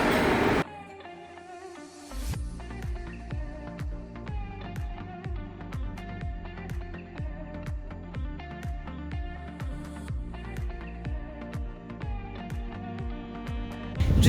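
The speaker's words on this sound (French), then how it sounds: "Voilà à quoi ressemble le tram à Nice." A tram in Nice heard up close, a sustained rolling rumble with repeated wheel clicks, steady tonal whine and scattered metallic squeaks running throughout, after a brief quieter moment at the start.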